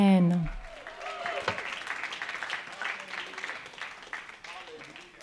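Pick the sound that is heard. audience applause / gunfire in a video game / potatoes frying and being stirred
audience applause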